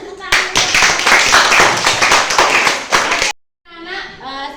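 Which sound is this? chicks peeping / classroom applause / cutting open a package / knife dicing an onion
classroom applause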